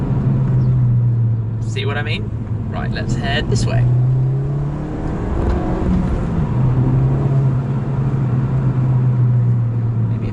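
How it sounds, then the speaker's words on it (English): Mountune MR265 tuned Ford Fiesta ST accelerating, its exhaust a steady, loud low drone heard from inside the cabin with a voice talking over it. "The exhaust noise in here is not bad either."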